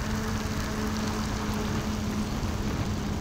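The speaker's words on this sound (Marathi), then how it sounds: "अरे बापरे, पावसाचा जोर बघतोय" Heavy monsoon rain during a motorcycle ride on the NH66 highway from Mumbai to Dapoli makes a dense, steady roar of noise with no letup, and a faint engine hum runs underneath.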